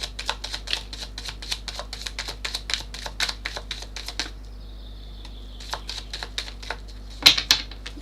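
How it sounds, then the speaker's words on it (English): Tarot cards are shuffled at a table, producing rapid, crisp riffling clicks in steady bursts, a pause of soft flapping, then more brisk snaps, all close and fairly light with no talking. "let me do another shuffle"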